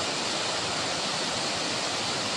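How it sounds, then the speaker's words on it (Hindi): Fast-flowing stream water at a hillside site near Islamabad gives a steady, even rushing wash, fairly close and unbroken throughout. "पानी की रफ्तार देखिए।"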